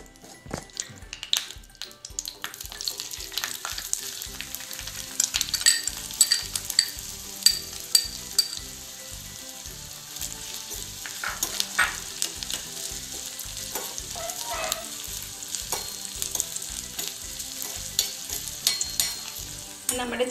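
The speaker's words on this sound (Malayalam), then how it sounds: "എന്നിട്ട് 1 സ്പൂൺ നെയ്യ് ഒഴിച്ച് നമുക്കൊന്ന് കടുക് വറക്കാം." Mustard seeds and small shallots fry in ghee for a mutton soup tempering, with a busy sizzle, rapid popping crackles and occasional stirring taps, close and continuous.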